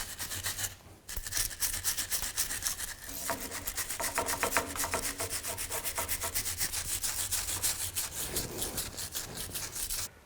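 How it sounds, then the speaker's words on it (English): A wire brush scrubs rust off corroded cover bolts on the rear axle of a 2000-06 Chevy Tahoe, making rapid, rhythmic raspy strokes that continue steadily at close range after a brief pause. "I'm just going to take a wire brush, just try to clean up some of the rust"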